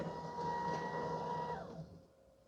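A Shark robot vacuum and mop combo, the PowerDetect ThermaCharged NeverTouch Pro, whirs with a steady motor hum and a high whine. The pitch then drops and the sound fades as the machine shifts.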